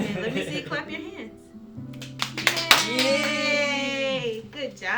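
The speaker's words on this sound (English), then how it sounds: "Let me see you clap your hands." A ten-year-old girl claps her hands on request, a short burst of close claps mixed with a voice talking and an encouraging cheer.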